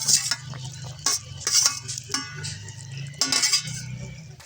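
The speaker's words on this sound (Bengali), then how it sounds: "আমি এখন আলুটা গলে গেছে, এখন আমি মাছটা দিয়ে দেবো।" Stingray fish goes into a simmering potato curry in a pot, with soft bubbling under bursts of scraping and clinking as a utensil stirs and taps the pan, close and fairly quiet.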